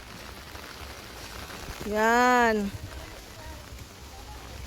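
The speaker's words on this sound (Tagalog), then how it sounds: "Lakas ng ulan." Heavy rain pours down in a steady, broadband hiss that runs throughout, with a person briefly speaking over it.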